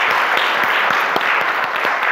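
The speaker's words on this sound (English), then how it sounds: "let's give them a round of applause" A church congregation claps for two Sunday school teachers during a Pentecost worship service, a short, loud, dense burst of applause from a room full of people.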